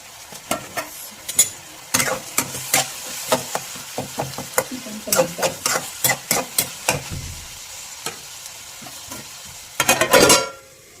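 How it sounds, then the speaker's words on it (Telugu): Tomatoes and green chillies sauté in a pan for upma, with soft frying underneath and a rapid series of loud spatula knocks and scrapes against the pan, close by, ending in a burst of scraping. "ఇది కూడా ఒక 2 minutes మగ్గిద్దాం. సో టమాటా మగ్గిద్దాం, చూద్దాం."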